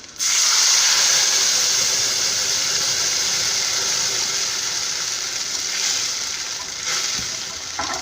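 A sudden loud hiss as half a glass of water is poured into a hot pan of fried spices, then a steady, bubbling sizzle of steam, close and sustained.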